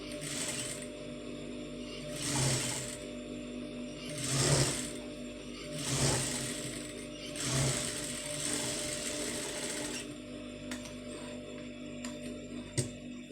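A sewing machine stitches piping onto a garment sleeve, giving a steady close mechanical whir that swells into louder rhythmic bursts about every second and a half, with no voices.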